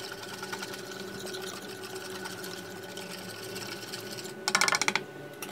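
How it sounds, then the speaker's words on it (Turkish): An electric whisk mixer whirs steadily while blending yogurt and other ingredients for a dill and corn flour pogaca dough, ending in a brief louder, rattling burst. "Şimdi bir çırpıcı yardımıyla bir karıştıralım malzemelerimizi."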